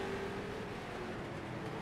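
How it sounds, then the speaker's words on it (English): A car engine blowing up in the iRacing game during a figure 8 endurance race: a continuous roaring drone with a harsh, rattling edge, holding steady at a loud level, with no voices. "you hear that noise, that is that engine getting blown up"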